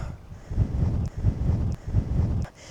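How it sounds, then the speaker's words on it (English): Strong gusting wind buffets the microphone on a fog-covered 2,000 m mountain fortress, roaring in three or four heavy surges with brief lulls between them. "The wind is so strong, as you can see."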